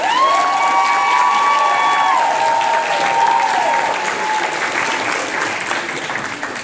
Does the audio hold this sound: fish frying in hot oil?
no